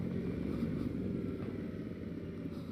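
A Yamaha Ténéré 700 with the MT-07's CP2 parallel-twin engine drones in a low, steady rumble while being ridden, fairly subdued and continuous, with no talking.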